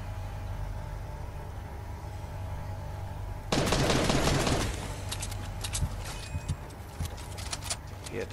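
Video game gunfire in a Bounty Royale match, a sudden burst of rapid automatic shots followed by scattered individual cracks over a quiet background.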